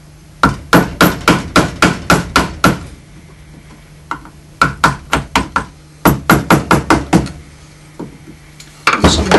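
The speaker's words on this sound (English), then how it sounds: "I want to be careful I don't chisel the eye out here" A mallet drives a chisel into walnut while carving around a carp's eye, making rapid runs of sharp, close, loud strikes separated by brief pauses.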